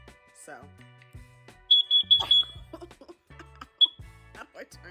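A carbon monoxide detector's test button sets off short, piercing high-pitched beeps in quick bursts, then one more lone beep, loud and close, with someone talking in between.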